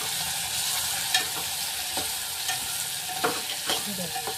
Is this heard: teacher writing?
no